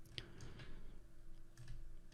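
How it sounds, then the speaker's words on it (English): Soft, sparse keystrokes tap on a computer keyboard while text is entered, a few faint isolated clicks over a quiet room hum. "I'm going to start typing in our text."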